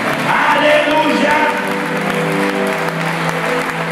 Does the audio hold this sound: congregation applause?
yes